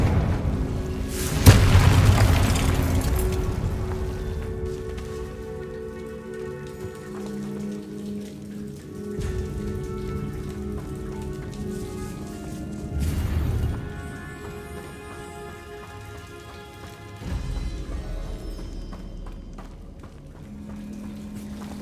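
Confringo spell explosions in a Harry Potter video game: a loud boom early on, followed by further rumbling blasts and crashes, with continuous rain-like crackling and low background tones between them.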